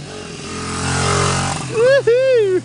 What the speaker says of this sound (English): Here comes Jason riding the MR80.